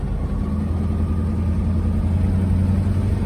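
A 1964 Ford Galaxie 500XL with a 428 engine during a 0-60 run: a loud, steady engine drone from inside the car, with no distinct rise or fall in revs.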